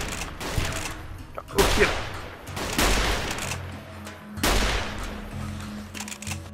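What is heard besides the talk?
pistol gunfire in video game Fallout New Vegas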